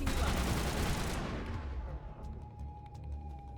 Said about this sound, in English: Oh my gosh, those are defensive turrets